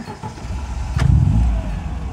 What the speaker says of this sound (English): you can hear it's just ticking over. It's just idling, absolutely lovely.